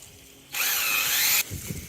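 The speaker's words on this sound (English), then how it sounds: "I usually try to drill with just a little upward direction to it" A power drill boring a tap hole into a maple tree runs in one steady, high whine for about a second, bracketed by quiet outdoor ambience before and after.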